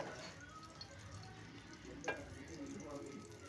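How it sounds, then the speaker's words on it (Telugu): Fenugreek seeds frying in a pan for Telangana-style brinjal gujju kura, a steady soft sizzle with faint stirring and one brief louder clink midway. "మెంతులు ఎర్రగా కా వేగాలన్నమాట"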